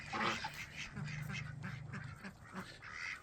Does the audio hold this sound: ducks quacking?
yes